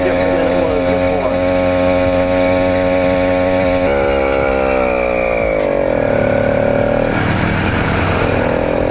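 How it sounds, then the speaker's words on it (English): A ported 80cc two-stroke motorized bicycle engine runs continuously, buzzing loudly and close, with its pitch shifting as the revs drop and climb again midway. "This motor is way different than it was before."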